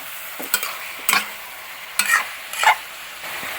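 Chicken pieces with salt stirred in a pan for a Kerala-style chicken stew, four distinct scraping stirs in an irregular rhythm over a faint sizzle, close and alone with no talking.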